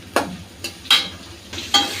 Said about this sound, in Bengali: তো এটা আগে কাঁচা গন্ধটা যাওয়া পর্যন্ত একটু ভেজে নিই।